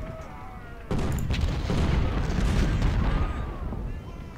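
Musket volleys crackle in the Ultimate General: Civil War game during fighting at Rio Hill, a dense rolling fusillade that swells abruptly and sustains as a continuous rumbling mass of shots under faint speech.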